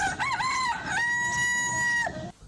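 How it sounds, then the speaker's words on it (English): A rooster crowing once, a loud, near, drawn-out call that rises and holds steady before dropping off at the end. "One thing that is of great importance to almost all ancient African settlements in those days is crowing of cocks"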